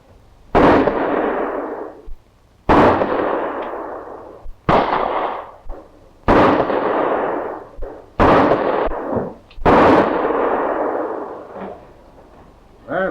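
Handgun shots at target practice in a 1940 crime film: six sharp, loud reports spaced roughly two seconds apart, each with a decaying echo tail.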